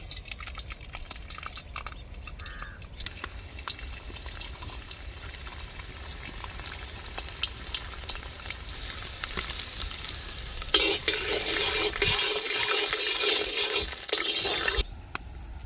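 Garlic fries in hot oil for a jilebi fish curry, a continuous close sizzle with stirring scrapes throughout, swelling into a louder, hissier burst near the end.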